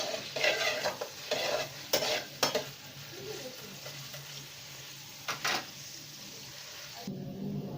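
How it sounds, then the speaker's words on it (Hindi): Onions frying and lightly browning in a pan for a potato chicken curry, a soft sizzle broken by repeated scraping strokes of a spoon stirring them, close and moderately loud, no speech. "ऑनियन को सिर्फ थोड़ा सा लाइटली हम ब्राउन करेंगे।"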